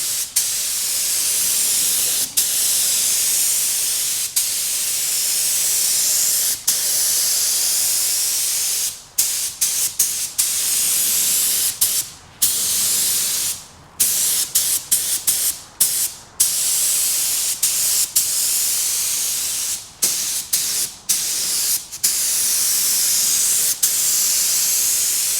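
A spray gun lays a first coat of paint onto a car panel during a spot repair in cold weather, giving a loud, steady close-up hiss with brief pauses and repeated passes, and no talking.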